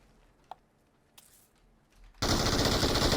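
Machine gun fire in the battle royale game PUBG, starting abruptly after a quiet stretch with a couple of faint clicks, then a loud, continuous burst running to the end.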